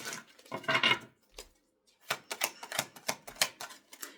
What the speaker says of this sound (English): I just shuffled the deck